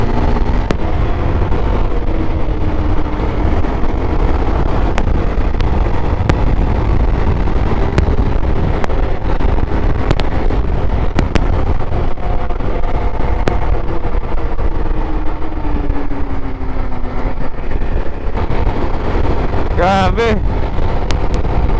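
A TRF 250 motorcycle engine runs continuously under heavy wind buffeting while riding, a loud steady drone with a voice speaking over it.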